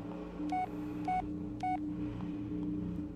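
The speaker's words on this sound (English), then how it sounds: "God, got a text message." A phone text-message notification in the Blair Witch video game sounds as three short, evenly spaced electronic beeps. They sit over a low, droning ambient background with no speech.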